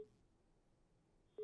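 A telephone busy signal tone cuts in near the end after a call-in viewer's phone line drops during a live Hindi news talk show broadcast, loud and steady against a faint quiet background.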